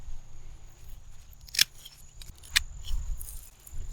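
Garden shears snip a thick sweet potato vine twice, two sharp crisp cuts about a second apart, close against quiet outdoor background rustle.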